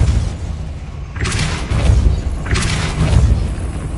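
A Depulso spell cast in a Hogwarts video game lands as two broad whooshing bursts with booming thuds, about a second apart, over a low rumbling game ambience.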